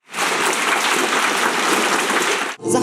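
A large crowd at an awards ceremony applauds continuously as award winners walk a red carpet, a dense sustained clapping that stops abruptly near the end.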